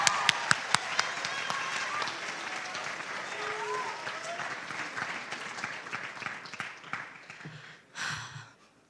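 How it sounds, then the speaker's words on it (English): Audience applause for a poetry reader at a high school Poetry Out Loud recitation, steady dense clapping from a crowd that fades out near the end. "Let's give her a round of applause."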